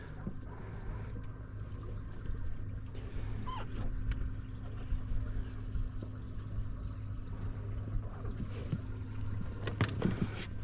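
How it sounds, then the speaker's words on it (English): A small electric bilge pump motor aerating a tank hums steadily with a rough, buzzing drone, accompanied by faint splashing and occasional clicks. "My pump is making a god-awful noise in that"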